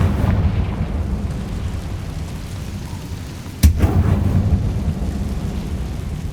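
Confringo fire spell in Hogwarts Legacy lands as a single sharp blast over a deep, rumbling, thunder-like roar that carries on loudly before and after the impact, with no speech.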